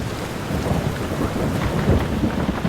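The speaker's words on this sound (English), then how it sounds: "When it rains in the Amazon, it can really rain" A heavy tropical downpour in the Amazon of Suriname roars steadily, with deep rumbling thunder rolling underneath throughout, dense and continuous with no voices.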